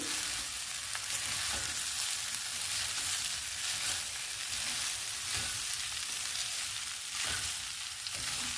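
Rice fried in a pan for egg rice, with a loud, continuous close sizzle broken by occasional scraping stirs, no voices.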